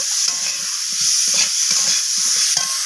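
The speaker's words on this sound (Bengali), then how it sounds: "তো আবারও সব কিছুকে নাড়াচাড়া করে কষিয়ে নেব।" Mixed vegetables fry in a pan with garlic, ginger paste and salt, giving a constant loud sizzle while a spoon scrapes and stirs in short, repeated strokes.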